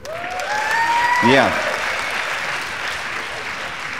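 An audience at a stand-up comedy show bursts into dense, loud applause that swells early and then holds steady, while someone talks briefly over the start.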